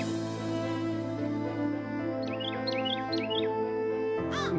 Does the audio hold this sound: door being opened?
no